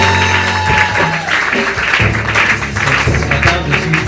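Church congregation applauding and cheering at a Christian service, a steady dense wash of clapping with low musical tones underneath throughout.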